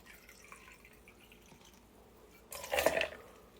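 Tequila is poured into a cocktail, a brief splashing trickle near the end after a quiet stretch, close and fairly soft.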